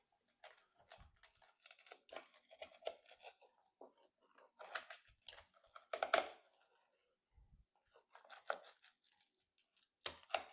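A crispy homemade pizza crust crackles as it is handled on a cooling rack, making faint, scattered crunches and brittle snaps in uneven bursts with quiet gaps between them.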